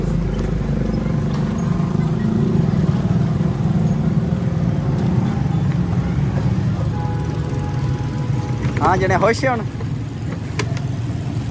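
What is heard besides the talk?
new motorcycle engine running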